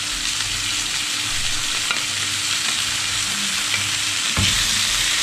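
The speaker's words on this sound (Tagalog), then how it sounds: "lagyan na natin yung ating chicken. Yung ating sliced breast chicken. Ayan. At siya naman ating igigisa." Sliced chicken breast sautés in a pan with garlic and onion, a constant close sizzle and hiss broken by a few scraping stirs, no talking.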